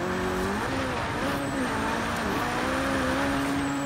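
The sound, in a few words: Abarth Fiat 131 car driving in video game Forza Horizon 3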